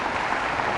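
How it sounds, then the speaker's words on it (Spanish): A church congregation applauds after a scripture reading, a brief burst of dense, full clapping that fills the whole short moment. "Fuertes aplausos a la palabra de Dios."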